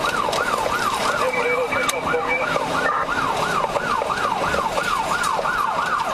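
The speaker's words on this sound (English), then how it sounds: "can't figure out how to turn off the siren" A wailing siren sweeps up and down in rapid, regular cycles, loud and close, over a low vehicle rumble.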